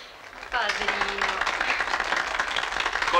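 A small round of applause from a modest crowd breaks out at a village gathering, brief scattered clapping of moderate loudness, with voices talking over it.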